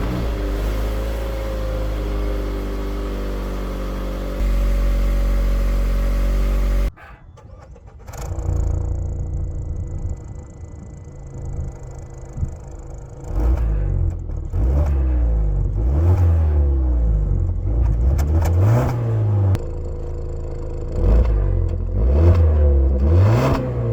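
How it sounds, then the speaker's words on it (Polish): Mazda CX-5 with a 2.5 SKYACTIV-G petrol engine (194 hp) rises through the revs from inside the cabin, with repeated climbing engine notes broken by gear changes, loud and steady with no talking. "Naprawdę bardzo przyjemny silnik."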